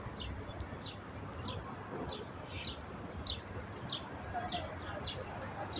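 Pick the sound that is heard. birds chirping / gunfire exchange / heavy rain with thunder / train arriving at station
birds chirping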